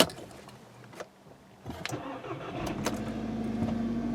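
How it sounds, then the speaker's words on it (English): A 2013 Volkswagen GTI with a 2.0T engine and an intermittent extended-crank fault has its key turned and cranks for several seconds before catching and settling into a steady idle, heard up close. "I'm just going to crank it over real quick. So a bit of an extended crank."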